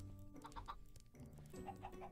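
Chickens cluck in a Minecraft game, a few short repeated clucks over a busy background, with no one talking.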